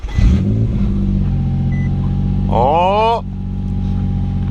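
An Infiniti G35 in limp mode cranks and catches, then settles into a steady low idle rumble. A voice briefly exclaims over the engine.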